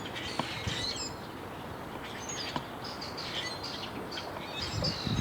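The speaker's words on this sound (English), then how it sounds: "It's just really full of birds. Listen to them all, flying in and out" Many birds chirping around a busy backyard birdhouse in spring, a dense overlapping chorus of high tweets and calls with occasional sharper notes over a soft outdoor hiss, and no one talking.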